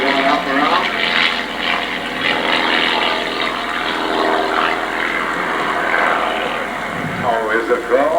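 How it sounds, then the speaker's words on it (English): Three propeller airplanes in formation at a 1994 air show at Joe Foss Field, Sioux Falls, make a loud, continuous engine roar and drone throughout as they pass overhead, with a voice faintly audible. "let's watch all 3 of these airplanes as they'll pull 2 in the vertical at the same time"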